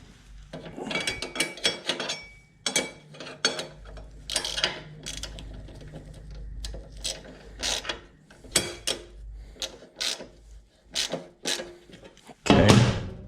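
A ratchet lightly tightens bolts while a rear end is installed on a 2019 Harley-Davidson Road King trike conversion. Short bursts of close, crisp clicking repeat at irregular intervals with small metallic clanks between them.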